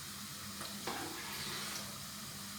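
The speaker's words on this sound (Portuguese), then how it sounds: "Eu gosto de deixar primeiro a cebola estalar um bocadinho" Onion sizzling in a pan as the start of a sauce: a quiet, steady crackling hiss of frying with a faint stir or clink partway through, close and alone without voices.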